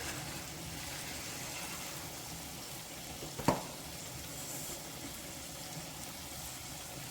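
Cubed bacon frying gently in a pan over low heat, a soft, steady sizzle throughout, with one brief clack of a utensil or pan partway through and no voices.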